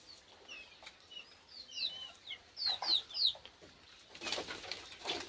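Desi chickens on a small farm cluck and chirp in a loose run of short, bright calls that grow louder midway, followed by a burst of broadband rustling near the end.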